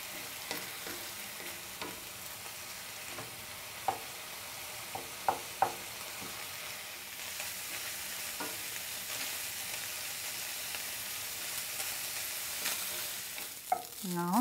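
Meat for an Ethiopian sambusa filling frying in a pan, releasing its water with a steady soft sizzle, punctuated by occasional sharp clicks and scrapes of a spoon stirring, fairly quiet and with no talking.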